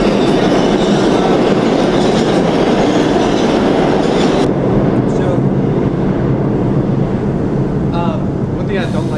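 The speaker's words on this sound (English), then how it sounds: "Oh, the trains are on their way." Subway trains arriving at a New York station with a loud, continuous rumble and clatter of rail cars. Wind buffets the microphone, and a voice is faintly present under the roar.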